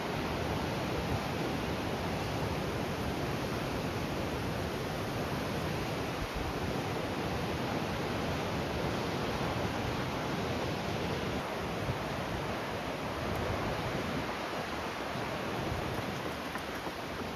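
Sea waves washing ashore at Murrays Bay beach on Auckland's North Shore, a steady broad surf roar mixed with sea breeze buffeting the microphone, constant and unbroken with no voices.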